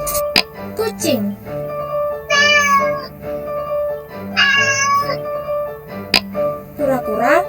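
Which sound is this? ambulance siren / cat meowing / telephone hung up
cat meowing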